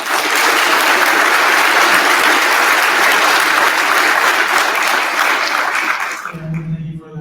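An audience at an Air Force cyber change-of-command ceremony breaks into loud, sustained applause that fills the room and ends abruptly near the close.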